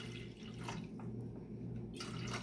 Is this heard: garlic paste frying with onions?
no